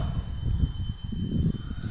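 Steady droning whine of an F-86 model jet aircraft flying low and slow overhead, a continuous engine rush heard at moderate distance.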